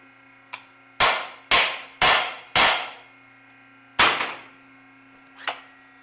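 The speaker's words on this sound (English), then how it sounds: "Need a bigger hammer, right?" Four sharp metallic hammer strikes on a metal rail tube in quick succession, then a fifth after a pause and a lighter tap, each ringing out briefly, close and loud.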